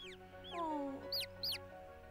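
Tiny baby chick in a farming video game, giving a few high, quick chirps that sweep downward, close and fairly clear over a steady background game tone.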